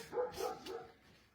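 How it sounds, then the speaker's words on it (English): Australian Shepherd barks indoors, three quick muffled yips in a row, fairly faint and with no talk. "That's my dog, obviously."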